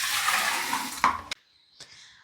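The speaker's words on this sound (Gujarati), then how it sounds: "માટલું ભરી દઈએ." Water pours steadily into a clay pot for drinking water, a close, rushing splash lasting about a second before it cuts off, followed by a couple of small clinks in a quiet room.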